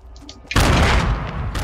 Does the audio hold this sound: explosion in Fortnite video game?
yes